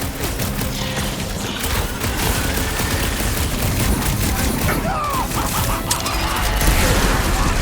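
Continuous gunfire and explosions fill a combat scene in the Guardians of the Galaxy video game on PS5, loud and dense with bursts and booms throughout.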